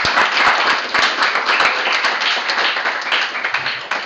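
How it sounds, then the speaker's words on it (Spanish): Applause from an audience closing a Spanish-language program, a dense, even burst of many hands clapping close by, holding steady for about four seconds before tapering slightly. "Cerramos con un aplauso."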